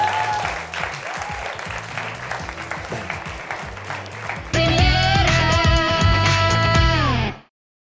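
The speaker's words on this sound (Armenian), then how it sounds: "Ծափարություններով ուղեկցենք մեր ժյուրիի անդամներին։" Audience applause sending the jury off during a televised competition round: sustained clapping from a crowd, loud and steady. Background music swells in partway through, and the sound then fades out.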